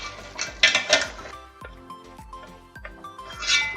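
A spoon clanks and clinks against a metal pot while saffron shahi korma is stirred, with a few louder clatters among softer scraping taps.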